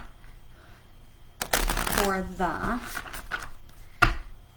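Tarot cards are shuffled for a card reading, giving a burst of riffling and flicking about midway with a sharp slap of cards near the end, heard alone at close range.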